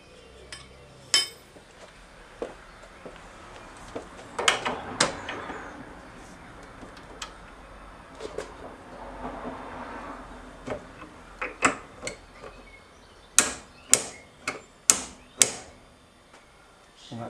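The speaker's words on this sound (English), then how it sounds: "So I'm going to do that in the vise with my torque wrench." A torque wrench tightens a Steeda rear shock mount shaft for a Mustang GT, clamped in a vise, to 22 foot-pounds. Scattered light metallic handling noises give way to a quick run of sharp, close clicks near the end.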